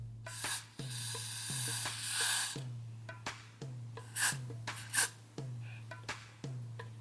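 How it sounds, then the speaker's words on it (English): Several short bursts of hair spray hiss in quick succession, fairly close, each followed by a brief pause, over a steady low hum. "Now I'm gonna do the whole spray thing to hold it down."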